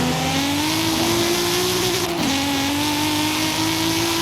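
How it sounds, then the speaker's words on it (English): A NASCAR stock car in Forza Horizon 5 holds a steady, droning engine note throughout, loud and continuous with one brief dip and shift in pitch partway through, and no talk. "Have a listen to this car."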